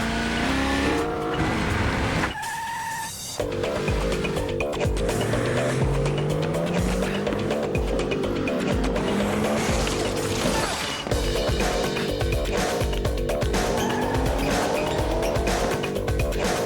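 Tires of a 265-horsepower Nissan Maxima squeal in a loud, sweeping screech with rising and falling pitch, mixed with engine noise, a brief break and a sharp impact in between, under music and effects.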